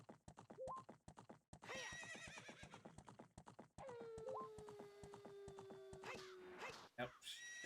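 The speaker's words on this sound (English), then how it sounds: "My horse doesn't want to make that big jump." Horse neighs and whinnies with hoof clip-clops in Zelda: Ocarina of Time (randomizer), two rising whinnies over steady rhythmic hoofbeats, with game music and a loud, long neigh near the end.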